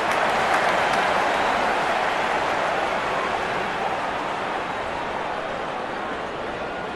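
A large crowd at a cricket stadium during a 2016 T20 World Cup match between West Indies and South Africa roars and applauds in a dense, sustained wash that slowly fades over several seconds.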